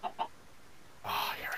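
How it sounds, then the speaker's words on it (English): Short clucking from a Minecraft chicken: two brief clucks at the start, then a louder burst of squawking noise near the end. "I want to kill the chicken so badly."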